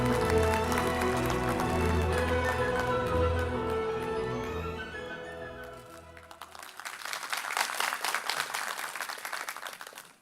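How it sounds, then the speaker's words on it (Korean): An audience at a 2014 global business conference breaks into dense, sustained applause in a hall. It swells over the tail of a musical fanfare. "박수 부탁드립니다."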